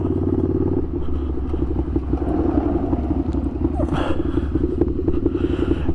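A Ducati Scrambler motorcycle is ridden on the road, its engine a steady, close, pulsing drone with a slight gear change near the start and light wind rush over it throughout.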